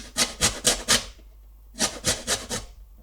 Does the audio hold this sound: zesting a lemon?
yes